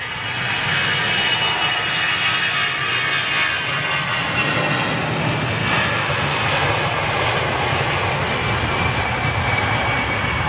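Jet aircraft engines at Heathrow airport produce a loud, continuous, broadband roar that stays steady and close throughout, with no talking.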